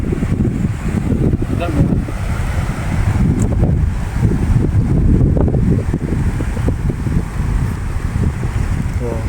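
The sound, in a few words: strong wind blowing outdoors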